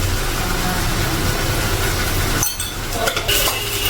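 Ivy gourd (dondakaya) fry is stirred in a pan on a stove, a steady sizzle and hiss followed by a few scraping and clinking strokes of the spoon near the end.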